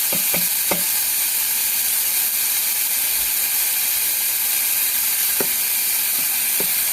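Onions fry in a pan for dal with a steady hiss, while a spoon scrapes and clinks against the pan in a few sharp strokes near the start and again near the end. No voices.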